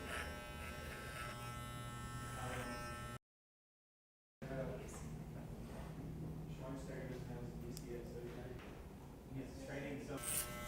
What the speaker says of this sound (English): So what I'm doing right now is clipper over comb